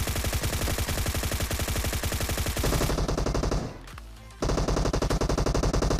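Rapid, continuous automatic fire from a VSS rifle in PUBG Mobile, loud and close, with a brief drop in the middle before the shots resume at the same fast rhythm.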